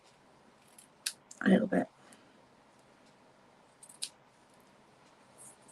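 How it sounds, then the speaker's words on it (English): Scissors snip through frayed craft ribbon, a couple of quick close cuts followed by a lighter snip, with a person talking softly over the cutting. "So I'm just going to trim that"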